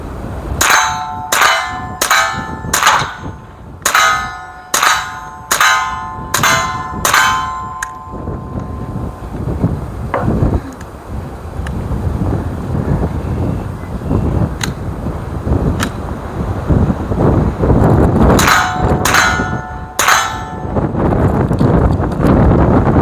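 A Sig P322 pistol firing at a steel target: a quick string of about eight loud, ringing metallic clangs, then wind noise and a scattered few more strikes near the end.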